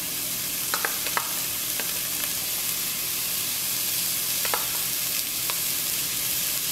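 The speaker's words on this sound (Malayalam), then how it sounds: "ഇത്രയും ചേർത്തിട്ട് നന്നായിട്ട് മിക്സ് ചെയ്ത് കൊടുക്കാം." Capsicum, green peas and corn being stir-fried for egg fried rice, a steady hiss of frying with a few scattered scrapes and clicks of stirring, alone and close.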